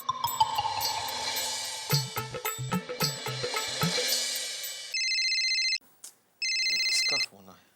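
A telephone rings with a bright electronic ringtone in repeated bursts, separated by a short gap, after a stretch of louder mixed background sound with people speaking.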